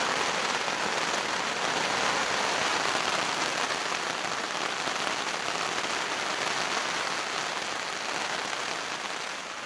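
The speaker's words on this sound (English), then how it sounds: "That rain is so loud." Heavy rain pounds steadily on a tent in Cumbria, a dense, loud, unbroken hiss of drops drumming close overhead, with no voices.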